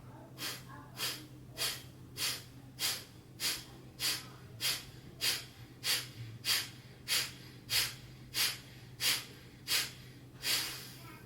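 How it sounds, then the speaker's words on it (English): A slow, steady run of breaths during a hatha yoga session, about sixteen evenly spaced airy breath sounds, each a soft swell in and out, close and fairly quiet with no talking. "So take a deep breath in, and then you just simply exhale."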